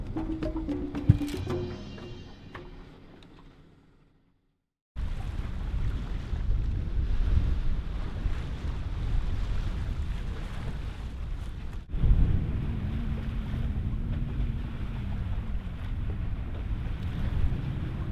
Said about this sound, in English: It's a little bit later on day 7 and I'm sailing again